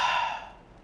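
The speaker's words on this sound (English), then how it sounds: "you breathe out and breathe in" A person exhales audibly in one soft, breathy sigh that starts strong and tapers off over under a second, alone with no talk.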